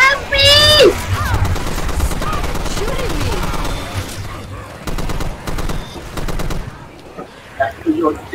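Rapid gunfire bursts come in several clusters during Left 4 Dead's Death Toll campaign. A sharp vocal shout sounds near the start, and other game sounds play underneath.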